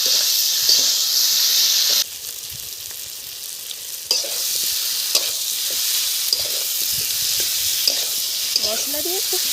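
Ground spices, ginger-cumin paste, chopped tomato, turmeric and salt sizzle loudly in hot oil in a pan for katla fish curry, with a steady hiss and repeated scraping stirs throughout; no one speaks.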